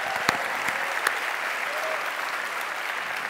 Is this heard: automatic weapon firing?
no